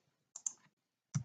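A few soft computer keyboard key clicks, two quick taps close together then a single tap after a short pause, quiet and close in an otherwise silent room.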